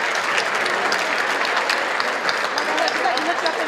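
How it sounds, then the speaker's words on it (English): A large audience applauds children from housing developments who perform ballet folklorico and mariachi music, a dense, loud, continuous wash of clapping. "Join me in a round of applause for the children who live in some of our housing developments,"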